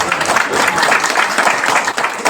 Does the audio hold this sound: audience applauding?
yes